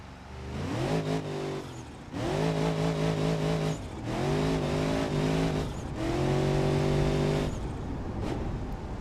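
Engine of a turbocharged Rotsun in the BeamNG.drive driving game revs hard in 4th gear while spinning its tires, in four loud sustained bursts that rise in pitch, each cut by a brief gear-change dip, with no talk.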